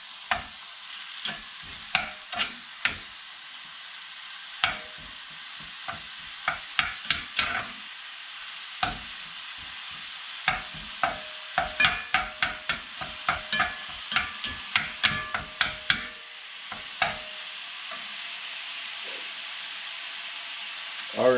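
Chili meat browns in a hot pan with a steady sizzle, while a utensil scrapes and stirs it in frequent sharp strokes, near and loud, that fade out toward the end.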